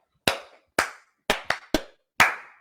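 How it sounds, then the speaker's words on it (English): Six sharp, separate hand claps from a class teacher, close and loud, spaced irregularly with brief silence between them. "The class teacher has clapped his hand for himself"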